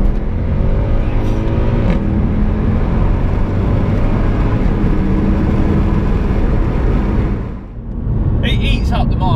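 Mercedes-Benz AMG C63 engine accelerating hard on the open road, a loud, steady drone that holds for most of the stretch, dips briefly near the end and then swells again.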